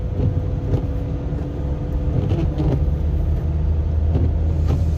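A pickup truck on all-terrain tires crawls along in four-wheel drive and first gear through a winter storm, its engine a steady low rumble and drone throughout, with no talking.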